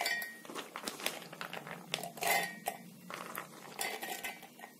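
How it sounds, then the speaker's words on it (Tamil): Soaked, drained chana dal tipped into a mixer jar in a kitchen, giving a close run of clinking, rattling and scraping of a spoon against metal with a few louder knocks, and no speech. "இது இப்போ தண்ணியெல்லாம் வடிச்சுட்டு மிக்ஸி ஜாருக்கு மாற்றிடலாம்"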